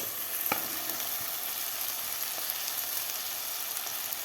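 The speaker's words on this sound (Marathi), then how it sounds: "आता भाज्यासुद्धा खालच्या मसाल्यामध्ये व्यवस्थित आपल्याला मिक्स करून घ्यायच्या आहेत." Vegetables frying and being stirred into masala with peanuts for masala khichdi, a steady close sizzle with occasional light scrapes of a spoon against the pan.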